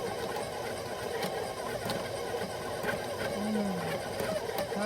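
A stand mixer runs steadily, kneading biscotti dough in a bowl with a continuous motor whir and faint rhythmic thumping, close and moderately loud with no talking.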